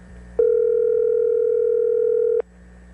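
A single steady telephone tone sounds for about two seconds during a call to a cell phone on a sports radio show, clear and loud over a quiet background.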